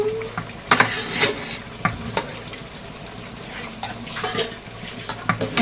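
Spoon stirring chicken curry in a pot, with scattered scraping clinks against the metal and a soft sizzle underneath, moderately close and irregular in rhythm.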